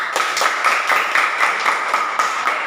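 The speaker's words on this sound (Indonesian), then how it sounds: "Kepada kelompok 1, berikan dulu tepuk tangan buat mereka." A group of students claps in a classroom, giving a short burst of scattered, moderately loud hand claps in an irregular rhythm, with no talking over it.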